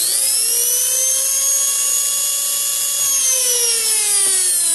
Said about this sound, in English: I'll plug that in and we'll see that we have a good working universal motor.